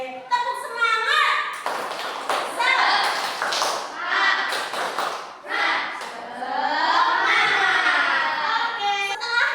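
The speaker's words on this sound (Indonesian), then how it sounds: "Oke, tepuk semangat." Students in a classroom clap the rhythmic 'tepuk semangat' spirit clap, with sharp, close claps and thumps mixed with loud children's chanting and shouting throughout.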